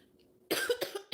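A single close, abrupt cough bursts out after a moment of near silence, followed by a couple of smaller coughing breaths, fairly quiet overall.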